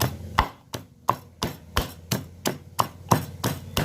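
A pestle pounds chili paste with shallots in a mortar, about a dozen evenly spaced, close thuds at a steady rhythm, alone without speech.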